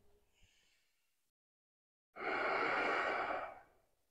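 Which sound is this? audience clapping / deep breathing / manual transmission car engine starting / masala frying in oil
deep breathing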